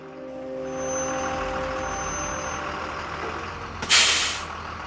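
Big yellow bus idling as it parks, its engine humming low and steady before a sharp, loud hiss of air brakes releases near the end.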